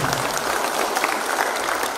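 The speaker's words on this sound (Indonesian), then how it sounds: "Tepuk tangan untuk" An audience claps steadily throughout at a regional coordination meeting attended by Indonesian officials, a dense, even wash of applause from a full room with no pauses or voices.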